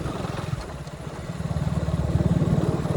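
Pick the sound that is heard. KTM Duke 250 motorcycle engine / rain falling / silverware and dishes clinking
KTM Duke 250 motorcycle engine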